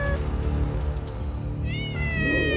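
A cartoon cat lets out a meow in a Hindi horror cartoon, the rising, wavering cry sitting over a steady musical background that runs throughout.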